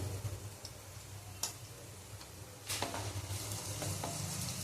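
Turmeric stirred into a browning onion mixture in a frying pan before ridge gourd goes in, with a steady low sizzle, soft scraping strokes and a few sharp utensil clicks against the pan.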